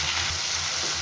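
Chopped onion and tomato with tempering spices and dried red chillies sizzle in hot oil in a pan, a loud, continuous crackling fry heard close up.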